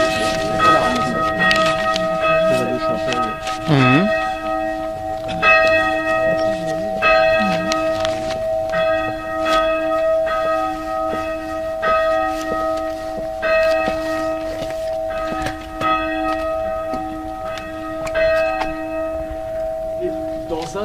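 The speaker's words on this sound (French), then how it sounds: "c'est très aigu, c'est très petit, hein, comme une cloche de chapelle" A small, high-pitched chapel-style church bell rings repeatedly with a sustained metallic tone and lingering overtones, struck in a steady series for about twenty seconds, with a voice speaking faintly at times.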